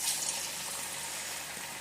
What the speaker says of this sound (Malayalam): എണ്ണ ചൂടായിട്ടുണ്ട്, നമുക്ക് ഇട്ട് കൊടുക്കാം.